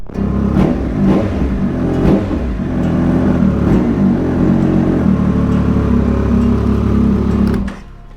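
Triumph Speed Triple 1200 RS motorcycle with a Pro Race GP-R3R titanium exhaust, revving loudly and close with a raspy, rising and falling engine note, cutting off sharply at the end.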